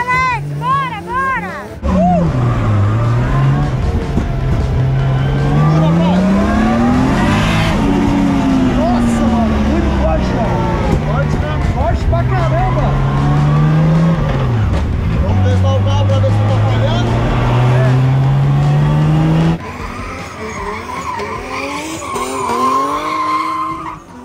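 Car drifting with loud, sustained tire squeal, the pitch sliding up and down across repeated slides, with engine roar underneath and people talking over it; the squealing drops away near the end.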